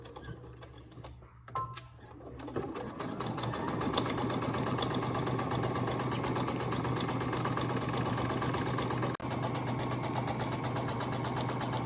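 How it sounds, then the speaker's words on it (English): A sewing machine stitches curved fabric pieces for a face mask, starting after a brief quiet pause and then running in a continuous close, fast mechanical whir with a short break near the end. "I'm going to sew the curved pieces."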